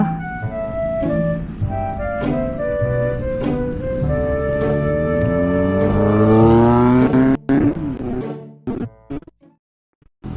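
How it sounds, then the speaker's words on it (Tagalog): Yamaha XMAX 300cc scooter engine revving up in rising, sweeping tones that climb steadily over several seconds, loud and close, then cutting off abruptly with a few brief bursts near the end. "Ganito pala X-Max, no? Parang ano, konti lang yung power niya. 300cc."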